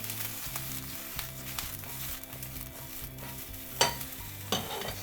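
Mushrooms sautéing in a pan to cook off their moisture for a mushroom peperoncino, a steady sizzle with occasional stirring and pan scrapes, plus two sharper clatters near the end, and soft music running underneath.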